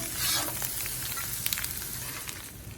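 Onions and pork frying together in a pan, a steady close crackling sizzle with a brief louder burst near the start and a few light scraping stirs.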